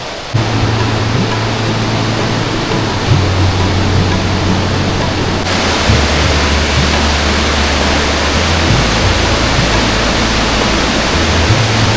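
A swollen mountain stream near Kedarnath rushing after rain, a loud, constant roar of water filling the whole stretch without pause, with a steady low hum beneath it and no talking.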